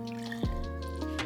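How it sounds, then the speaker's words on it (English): Warm milk pours into a glass French press, a smooth liquid fill under a low, steady hum with a brief gurgling drop partway through, close and fairly quiet. "Pour your warm milk into the press,"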